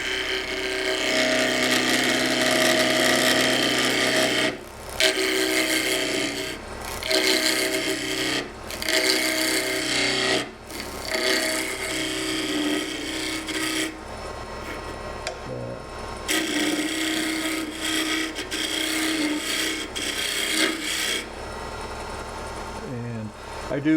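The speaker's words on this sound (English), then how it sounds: "So peeling cut, you kind of cut on a tangent, so you start high," Gouge taking a peeling cut on a spinning wood box blank on a lathe, shaping it for a threaded box: loud, close rasping bursts of shaving, broken by several short pauses.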